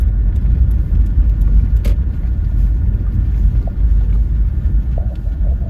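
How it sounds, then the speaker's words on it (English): A car on the Dalton Highway in Alaska gives a loud, steady low engine and road rumble from inside the cabin as it pulls in to refuel, with a few faint clicks and no talking. "We're going to pull in over here first and fill up the car with fuel."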